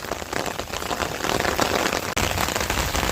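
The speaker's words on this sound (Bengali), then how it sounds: "আমি ছাতি ধরে দাঁড়িয়ে আছি বৃষ্টির মধ্যে" Rain falls steadily by a river during catfish fishing while someone stands under an umbrella, a close, even patter with a brief dropout near the end.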